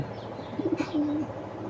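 Racing pigeons cooing close by, a few short soft coos followed by one longer drawn-out coo, over quiet background hiss.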